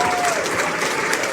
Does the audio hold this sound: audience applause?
yes